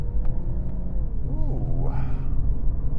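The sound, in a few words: 2018 INFINITI Q50 3.0t Sport being driven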